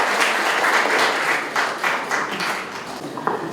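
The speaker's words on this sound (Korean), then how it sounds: "훌륭한 강연해주신 교수님께 다시 한번 큰 박수 부탁드립니다." An audience applauds a professor after his security lecture, many hands clapping in a broad, even wash that thins and softens a little toward the end, with a few sharper claps standing out.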